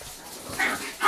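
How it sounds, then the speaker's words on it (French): Small dogs yip and whimper during play indoors, a quick, faint high-pitched burst rising briefly over a low room background. "excusez-moi des petits chiens, là. Les petits chiens, ils ont bien du fun, là."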